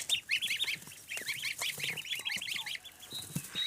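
Young geese honk and peep in quick, high-pitched bursts, several birds calling close by almost continuously on a farm in the morning.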